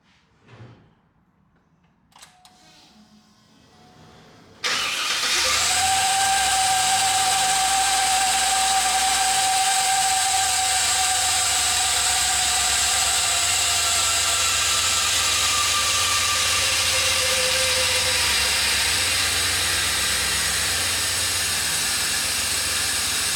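After a quiet start with faint clicks, an LS-swapped 1979 Cadillac engine with a 92mm throttle body fires up and settles into a steady, loud idle with a strong hiss and whine from the throttle body, sustained and close.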